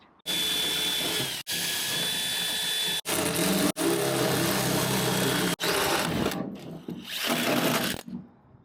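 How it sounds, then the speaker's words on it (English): A power drill whirs loudly in several long bursts while fitting a canopy on an Isuzu D-Max, stopping and restarting with short gaps, then winding down near the end. "We're drilling."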